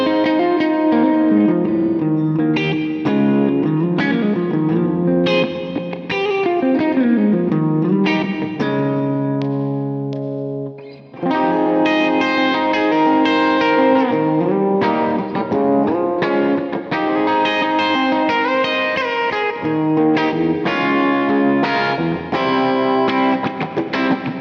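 A 1996 Joe Perry signature Gibson electric guitar with both pickups on, clean reverb-soaked tone, strummed chords and picked runs with a brief pause midway, loud and steady throughout.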